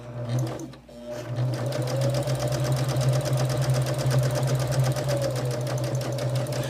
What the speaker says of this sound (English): sew a 1/4 inch on either side of the line. Because I'm doing all these at one time, I'm just going to chain them all the way through